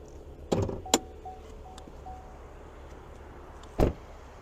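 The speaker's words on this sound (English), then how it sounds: "Now we're going to go ahead and pop the hood." Hood release and latch of a blue-on-black 2023 Chevy Camaro 2LT RS with a 3.6 liter V6 being popped open: a few sharp, close clunks and clicks, a pair close together, then one more after a quiet pause.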